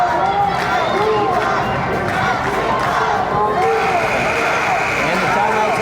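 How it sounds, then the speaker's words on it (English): Crowd at a Lady Vikings women's college basketball game at Jefferson College cheers and shouts through a timeout, a steady loud roar with rising calls and voices throughout. "Listen to that crowd getting pumped up for their Lady Vikings."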